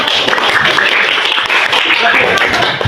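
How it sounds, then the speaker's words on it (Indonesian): A group claps together at an Indonesian teacher-training session for Guru Penggerak, a short burst of dense, steady applause close by with voices murmuring underneath. "selamat bekerja, tepuk tangan dulu"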